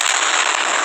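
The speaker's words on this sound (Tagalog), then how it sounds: "Boom, sumabog." An explosion in the Minecraft video game gives a loud, sustained crackling hiss of noise that holds steady throughout.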